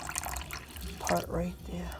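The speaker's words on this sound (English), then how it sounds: "Add just a little bit more water." Water is poured onto rice in a bowl to make rice water, a brief soft splashing trickle with a voice talking over it.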